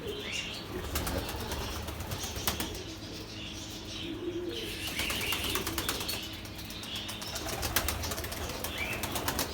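Turkish tumbler pigeons in a loft give bursts of wing flapping and soft cooing and chirps at close range, with low background hum and no speech.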